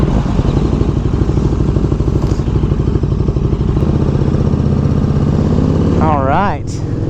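A motorcycle engine runs loud and steady with a rough, pulsing idle and clatter before setting off on a summer ride, and a voice speaks briefly near the end.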